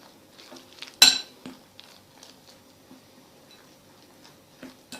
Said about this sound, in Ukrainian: і перемішуємо повністю до однорідної маси